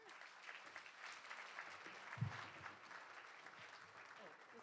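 A concert audience applauds a singer with a dense, continuous wash of clapping. It holds steady for several seconds at a moderate distance, and a brief voice can be heard within it.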